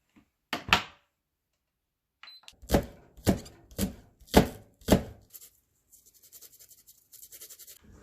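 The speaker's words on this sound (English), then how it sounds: "we need to cut up the spring onions, and we need to grate the garlic." A kitchen knife chops spring onions on a board in sharp, evenly spaced knocks. A softer, scratchy rasp follows as garlic is grated, and no one speaks.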